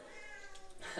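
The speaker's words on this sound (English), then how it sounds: "That's my cat" A house cat meows several times in a short wavering run, fairly close and moderately soft, with no one talking.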